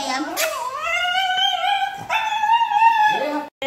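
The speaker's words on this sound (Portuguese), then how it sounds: "O cachorro chegou e tá querendo bater na outra." A dog makes long, high, wavering whines and yips, close and loud, with a brief break in the middle and a thump at the end.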